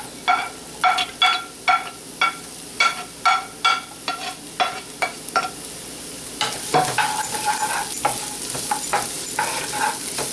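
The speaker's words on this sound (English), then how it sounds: "give it a nice mix." Garlic, green chili and onion stirred in hot vegetable oil, a bright sizzle cut by rhythmic, evenly spaced spatula scrapes, then quicker, busier stirring in the second half, loud and close with no talking.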